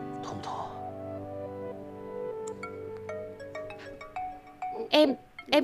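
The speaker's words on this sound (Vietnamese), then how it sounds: "Em nghe điện thoại." A mobile phone ringtone plays as a steady melodic tone pattern in a quiet indoor scene from a romantic drama series, with a few sharp clicks and rustles near the end.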